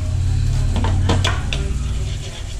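A whisk stirs hot liquid in a pan while making lecsó for a Zigeuner steak, scraping and clinking steadily over a loud, continuous kitchen sizzle and hum.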